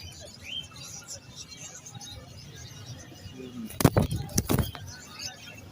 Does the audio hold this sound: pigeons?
yes